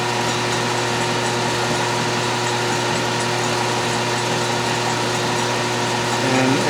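A lathe or drill press hums steadily while a bit cuts into a soft annealed steel ball for a wiggler edge finder, a dense, even whine held at a light feed throughout, close and loud.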